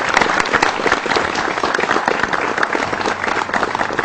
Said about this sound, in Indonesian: Kita beri tepuk tangan, inilah dia.